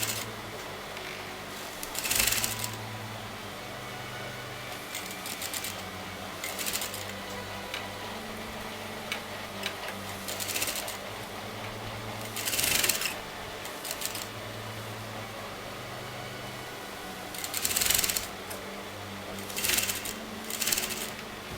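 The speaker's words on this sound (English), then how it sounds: "I'm just sewing the raw edges of the neckline" A sewing machine stitches the raw neckline edges of an Anarkali dress in short, repeated runs, each burst of rapid mechanical clatter separated by quieter pauses, with no voices.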